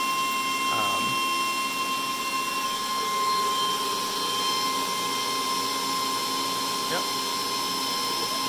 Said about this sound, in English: the laser is actually cutting the small pieces first, and then it cuts the outline after.